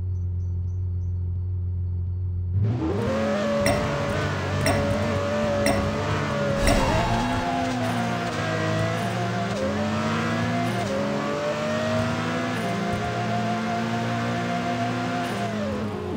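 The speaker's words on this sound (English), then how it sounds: "Next car is TVR Carrera Speedtrail with a 1000 horsepower 7-liter V12." A TVR Carrera Speedtrail, a 1000-horsepower 7-litre V12, in the racing game Apex Racer starts from a low idle, then revs hard and climbs through several gear changes with a loud, continuous engine howl and no talking.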